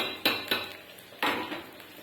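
A metal spatula stirs bitter gourd frying in an iron kadai, giving a few sharp clanks and scrapes against the pan at an uneven pace, fairly close and with no talking.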